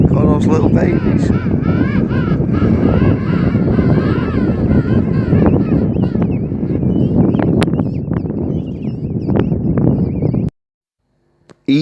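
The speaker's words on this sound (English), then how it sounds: "I did leave the background volume up in the first part of this particular clip so that you could hear the noises that the adults and the chicks made" King penguin adults and fluffy brown chicks calling in a colony at Volunteer Point, East Falkland, a dense continuous chorus of overlapping squawks and whistles under steady wind noise, cutting off near the end.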